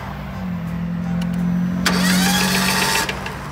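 A car engine idles with a low hum, then a starter cranks and the engine revs up roughly for about a second before settling back, with something apparently loose and rattling.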